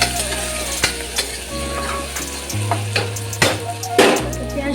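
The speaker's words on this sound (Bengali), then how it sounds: "পেঁয়াজ টমেটো একটু নেড়ে চেড়ে নেব।" Onion and tomato fry in a pan while being stirred, giving a loud, close sizzle broken by spatula scrapes and clatters against the pan, plus a low hum that drops in and out.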